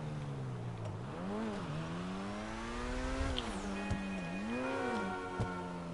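A car engine revs up and down in rising sweeps, with quick paddle-shift gear changes cutting the pitch between pulls, close and continuous.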